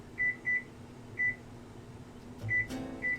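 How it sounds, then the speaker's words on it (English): Kitchen timer being set, with short electronic beeps in an uneven pattern over a quiet room hum and a brief clatter near the end. "Set a timer here"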